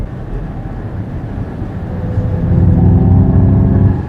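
A Ford Mustang Mach-E Extended Range 99 kWh in sport mode gives a deep, steady rumble like a V8 engine, swelling louder partway through and holding near and strong.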